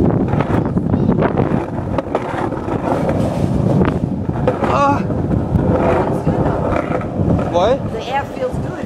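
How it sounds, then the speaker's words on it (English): Wind gusting hard into the microphone outdoors, a loud, close, continuous low rumble and buffeting, with people talking under it. "Fucking wind."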